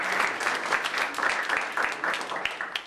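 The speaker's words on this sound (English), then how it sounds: "Come on, give her a round of applause." Audience applause for a woman volunteer at a magic show, a steady wash of many clapping hands held close and fairly loud for about three seconds, with a faint voice under it.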